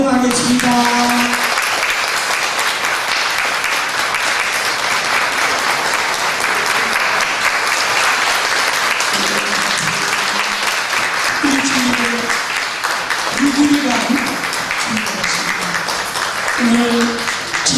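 Sustained audience applause welcoming a guest at a special lecture event in a church hall, steady dense clapping throughout, with a voice speaking intermittently over it.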